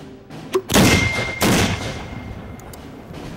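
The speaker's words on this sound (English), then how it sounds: "It's detonated by a separate fuse, the idea being to make sure that the projectile detonates when it's on the target" A mortar shell detonates with a loud, sharp blast followed by a second heavy boom and a long rumbling decay, heard alone without voices.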